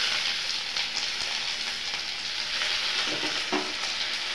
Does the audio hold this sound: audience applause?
no